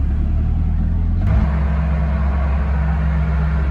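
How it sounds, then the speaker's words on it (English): A loud, steady engine from a stripped-out, turbocharged Mk3 Toyota MR2 drones at motorway cruising speed, a deep continuous rumble with turbo noises, a slight shift in tone partway through and no voices. "It's noisy, but it's not terrible, and it's cool turbo noises."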